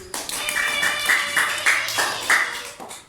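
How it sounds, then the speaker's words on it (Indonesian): A class of children clapping hands in a lesson, a rhythmic series of sharp claps in roughly even beats, loud and close, with some voices mixed in. "Tepuk tangan."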